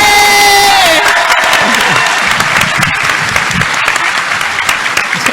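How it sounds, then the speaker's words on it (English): A convention panel audience bursts into loud, dense applause with cheers and whoops, sustained steadily across several seconds, filling the hall. "Give a round of applause."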